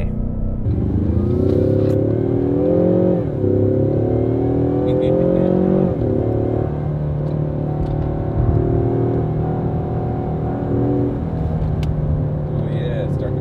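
A 2021 Ford Mustang EcoBoost convertible accelerates hard with its tires starting to break loose, giving a loud, steady engine drone whose pitch climbs, drops at the shifts and climbs again.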